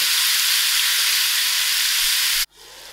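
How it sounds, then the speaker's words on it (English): Tomatoes sizzle steadily in a hot pan while cooking for a fish and potato curry, a loud, even frying hiss that cuts off abruptly near the end, leaving near quiet. "I will give the tomato another 2 minutes to cook out."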